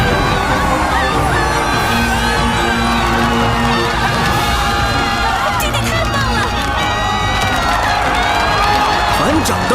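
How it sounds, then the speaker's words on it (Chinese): A large crowd roars and cheers continuously for a newly crowned alliance leader in an animated fantasy series, a loud unbroken wall of voices with shouts and whoops, backed by swelling music throughout. "去接受属于你的欢呼吧"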